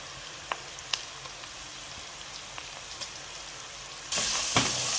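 Chopped onions frying in a pot for beef biryani give a steady soft sizzle with a few light clicks and taps, growing suddenly louder and brighter near the end.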